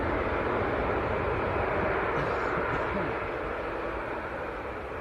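A TUI airliner departing Manchester Airport for Kefalonia, a broad steady jet roar filling the clip, loud at first and easing slightly as it moves away.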